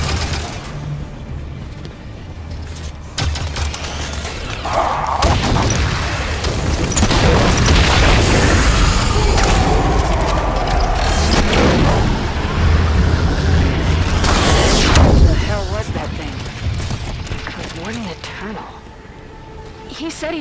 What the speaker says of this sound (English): Another quake.